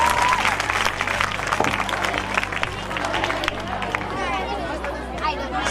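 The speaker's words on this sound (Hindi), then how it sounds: "तालियां बजा सकते हैं आप।" Audience applause at a government senior secondary school's annual function, a broad, steady wash of clapping mixed with crowd chatter and a speaking voice over a hall sound system, continuing for several seconds.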